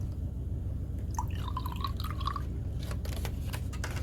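Excess water drains from a germination tray holding Grapefruit Diesel feminized autoflower seeds, a short run of small, quiet drips and trickles over a steady low background hum.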